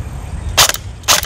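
Beretta ARX 160 Elite airsoft rifle by Elite Force/Umarex fired full auto with polymer mags, two short sharp bursts of rapid clicking cracks separated by a brief pause, close and loud.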